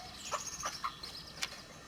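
A white German dwarf Faverolles hen gives a few soft, short clucks, faint and alone over quiet background hiss.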